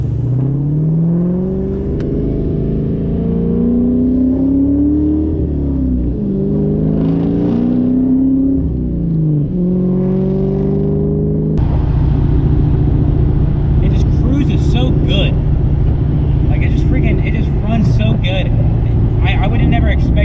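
Engine of a Terminator Cobra, a Mustang Cobra, revving and pulling away, a loud continuous rumble that rises and falls and then shifts into a steady, heavier drone as the car drives off, with a voice talking over it.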